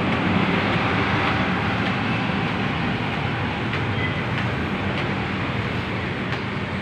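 Steady rumbling ride aboard an LRT light rail train in Manila, a continuous broadband roar with faint periodic clicks from the wheels over track joints, constant and close throughout, no talking.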